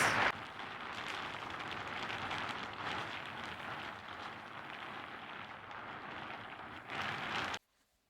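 Steady broadband hiss of rain falling on a surface, continuous and fairly close, with no voices, cutting off abruptly at the end.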